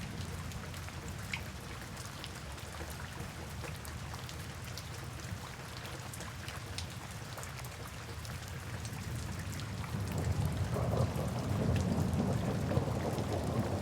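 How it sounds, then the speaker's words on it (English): Steady rain pours down with low thunder rumbling throughout, the downpour and rumble growing heavier and louder in the final few seconds. "It was a typical stormy night, rain lashing against the windows"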